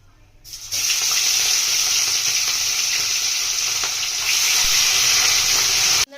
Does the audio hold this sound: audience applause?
no